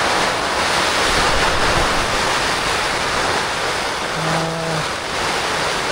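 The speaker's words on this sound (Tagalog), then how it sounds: "Napakalakas ng ulan." Heavy overnight rain and wind batter a campsite in Sta. Maria, Laguna, a dense constant roar close by, with a brief low humming tone near the end.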